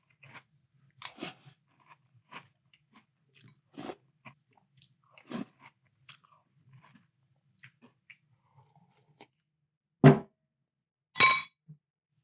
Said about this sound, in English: I gotta give it one final bite